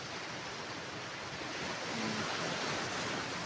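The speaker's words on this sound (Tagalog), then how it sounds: "Lalaki ng alon." Big ocean waves rolling and washing in a continuous broadband roar of surf, with steady hiss and a slight swell in loudness toward the end, heard alone without talk.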